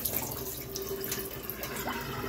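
Water draining out of a container while making a one-gallon batch of Granny Smith apple wine, a steady close trickling and splashing flow at low level, with no talk.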